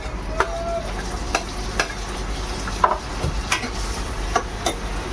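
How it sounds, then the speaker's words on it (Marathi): Tomatoes and onions frying together in a pan in an office kitchen, stirred with a utensil that gives repeated clinks and scrapes over a low steady sizzle, fairly close. "कांदा लाल झालाय, आपण आता टोमॅटो टाकूया"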